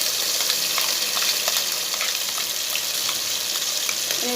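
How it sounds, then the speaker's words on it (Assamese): A paste of onion, tomato and cashew fries in a pan for shahi paneer, giving a continuous close sizzle with faint crackles and light stirring scrapes for a few seconds, no voices. "ঢালি দি মই এইখিনি অকণমান ভাজি থাকিম"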